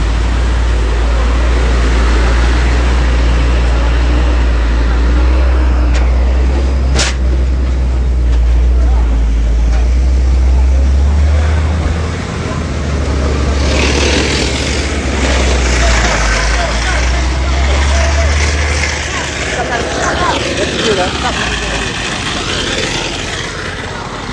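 Heavy traffic jammed at a road crossing the Duku airport railway line at night, a steady loud rumble of engines with people talking over it throughout.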